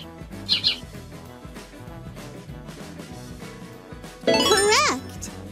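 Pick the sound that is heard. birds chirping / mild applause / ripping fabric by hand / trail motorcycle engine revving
birds chirping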